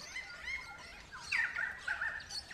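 Crimson rosellas, Australian parrots, giving thin high chirps and whistled calls in a rainforest, faint and somewhat distant, with a few brighter louder notes near the middle and end.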